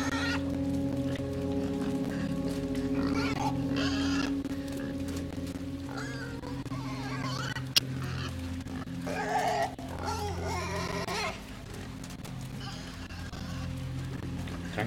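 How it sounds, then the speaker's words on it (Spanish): A pig in the video game Inside grunts and squeals in repeated bursts over a droning, layered game soundscape. "Odio a este cerdo."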